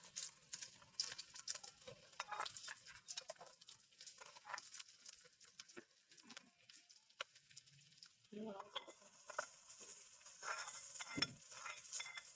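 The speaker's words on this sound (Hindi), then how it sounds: "अब इसमें मैं प्याज डालने लगी हूँ।" Onions sizzle and crackle in ghee for aloo palak, with irregular faint pops and occasional stirring scrapes in a home kitchen, the frying growing a little busier toward the end.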